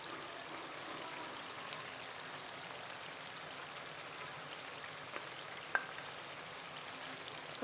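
Onions frying with ginger garlic paste in a pan for aloo matar: a soft, steady sizzle like light rain, with a few faint pops and crackles and no voices.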